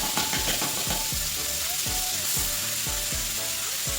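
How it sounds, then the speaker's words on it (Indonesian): Ground spice paste for a beef or goat tongseng hitting hot oil in a pan, a loud continuous sizzle with repeated knocking taps as the paste is scraped in. "ini sudah panas, kita masukkan bumbunya"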